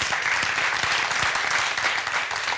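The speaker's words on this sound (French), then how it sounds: "On va applaudir pour notre ami Flobi." A studio crowd gives a radio caller a burst of steady, dense applause that fills the whole moment.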